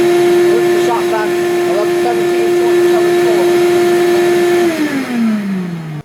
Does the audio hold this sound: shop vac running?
yes